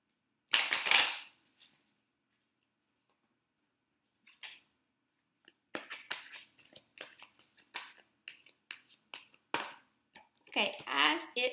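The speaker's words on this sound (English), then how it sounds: "One more shuffle. One more shuffle." Oracle cards being shuffled by hand, a series of quick crisp riffles and flicks in short bursts, close and fairly quiet with pauses between.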